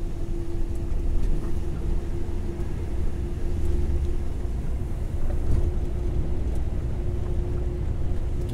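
Volvo FH truck cruising in 12th gear on the Serra de Paranaguá road, a steady low engine drone with a faint hum above it, heard from inside the cab with wind and road rumble.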